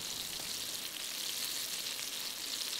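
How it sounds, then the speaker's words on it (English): Steady, close sizzling of chicken fried steak frying in a hot pan on a Firebox stove, a continuous crackling hiss with no talking. "that's sizzling away and cooking nicely"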